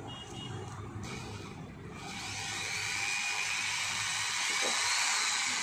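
A Trumax MX 113E electric drill runs continuously with its speed varied, a steady high whining motor tone that rises and grows louder over several seconds, heard close and alone.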